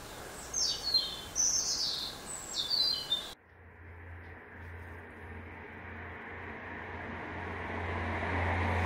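Small birds chirp in a few quick, bright bursts, then the sound cuts to a steady low engine drone that grows slightly louder and carries on to the end, with no voices.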